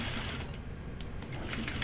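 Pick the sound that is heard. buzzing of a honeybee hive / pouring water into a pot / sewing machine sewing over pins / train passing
sewing machine sewing over pins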